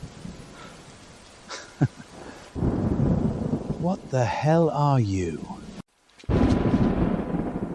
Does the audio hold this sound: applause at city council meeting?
no